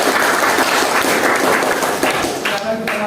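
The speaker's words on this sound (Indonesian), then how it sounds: "berikan tepuk tangan." Applause from a classroom audience in a group discussion session, clapping filling the room for about three seconds at a steady, fairly loud level.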